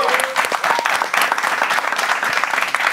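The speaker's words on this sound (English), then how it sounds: "Make some noise for my guy, Stalley" A studio audience at a late-night talk show claps and cheers in a dense, steady wash of applause with scattered whoops throughout.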